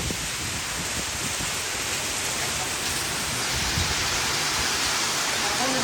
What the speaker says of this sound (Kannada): ಏನು ಅಪ್ಪಿ ಮಳೆ